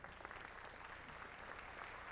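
Faint, distant audience applause at a jazz concert, a steady wash of clapping heard from far off.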